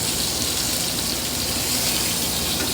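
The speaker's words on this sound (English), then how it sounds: "Once you see that they're changing color, a little bit roasted, add the water." Water pours steadily into a pan of roasting vegetables to start a vegetable stock, a loud, continuous splashing gush that lasts throughout with no talking.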